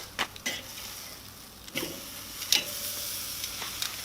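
Tri tip steak turned over on a Weber kettle charcoal grill, a few sharp metallic clicks and scrapes of tongs over a soft steady sizzle, close and alone.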